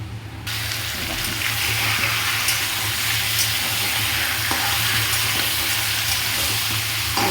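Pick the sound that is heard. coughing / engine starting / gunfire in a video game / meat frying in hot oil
meat frying in hot oil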